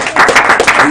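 An audience claps and cheers as a leadership team member comes up to pray, a dense, lively burst of applause with voices mixed in, close and loud throughout.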